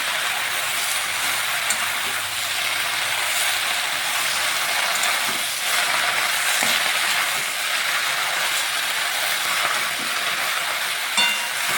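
Whole red spinach with added water is stirred in a hot pan, giving a steady close sizzling hiss with faint scraping and no talk.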